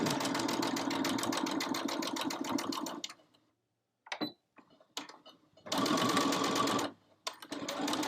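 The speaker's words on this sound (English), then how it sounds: "And we are going to stitch that on." A sewing machine stitches a holiday stocking in rapid, steady bursts, running for about three seconds, pausing, then starting again in shorter runs with quiet clicks between.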